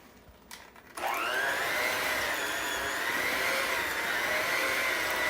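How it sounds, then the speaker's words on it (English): An electric mixer switching on after a second of quiet and then whirring at a steady high pitch, beating peanut butter bar batter, loud and close with no talk. "Now we're going to mix this up with the mixer."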